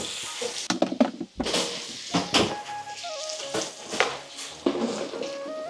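Onions sizzling in a hot pan for a Bengali feast, a steady close fry with sharp bursts as they are stirred and scraped, no voices.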